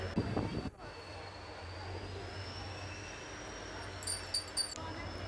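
A steady low rumble and rolling hum of a moving passenger train between Botad and Gandhigram carry on throughout, with a sharp jolt near the start and faint high squeals later.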